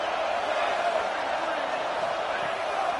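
Stadium crowd in a college football video game on a third-down defensive stand, a steady dense roar of cheering filling the whole stretch at constant loudness, without a break.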